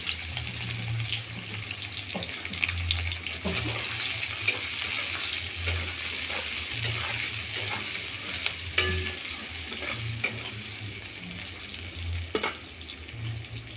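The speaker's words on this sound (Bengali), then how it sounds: "এবার দেব পেঁয়াজ কুচি" Chopped onion frying in hot mustard oil, a steady close sizzle with stirring scrapes and occasional clinks throughout, no talking.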